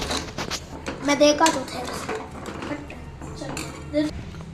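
Biryani masala being mixed into chicken in a pot, with repeated clinks and scrapes of a spoon against the pot and a soft wet stirring texture, close and steady.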